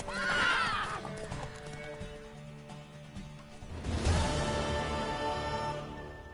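A horse in The Witcher 3 whinnies loudly at the start, followed by a second neigh with hoof clatter, set against a steady musical background.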